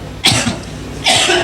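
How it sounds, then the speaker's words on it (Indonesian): Two harsh coughs, close and loud, the second following about a second after the first. "Kok saya langsung batuk?"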